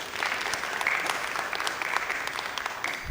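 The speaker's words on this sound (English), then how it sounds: "let's give a round of applause and welcome founder number 1 to stage" An audience at a live startup pitch event applauds to welcome a founder to the stage, a steady wash of clapping with a few sharper individual claps, moderately loud, rising again at the very end.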